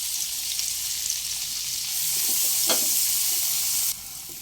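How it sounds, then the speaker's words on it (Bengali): Chopped onions frying in a pan for palak paneer, a loud, constant close sizzle with a brief stir midway that drops in level near the end. "পেঁয়াজের কালার একটু চেঞ্জ হয়ে আসা পর্যন্ত ভেজে নিতে হবে"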